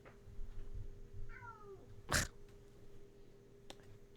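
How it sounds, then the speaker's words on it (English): A house cat gives a short two-note meow, moderately near, over a quiet room hum, followed by a sharp sneeze-like burst and a faint click. "Hold on, I hear my cat."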